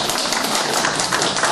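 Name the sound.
audience applause after a song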